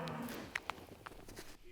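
Cattle on a ranch during late-winter calving season, with faint lowing and scattered short knocks and movement over a soft, noisy outdoor background, heard from a distance with no talking.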